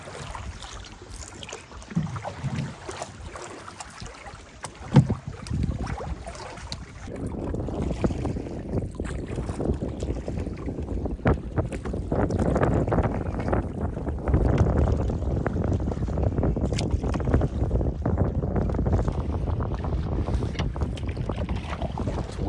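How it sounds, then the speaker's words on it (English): Strong wind buffets the microphone in a continuous low roar while canoeing on Cranberry Lake, growing louder and steadier after the first few seconds, with water splashing faintly underneath. "Windy."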